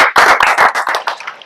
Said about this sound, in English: I'll give you all a round of applause for starting the process.